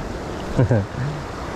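Steady wash of ocean surf and wind noise while fishing for squid from shore, with a brief low voice-like murmur partway through.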